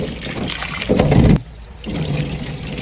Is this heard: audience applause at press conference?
no